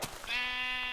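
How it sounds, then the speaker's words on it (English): A sheep in the video game Minecraft lets out a single drawn-out nasal bleat lasting under a second, clear but fairly quiet, with no talking over it. "Oh, sheep."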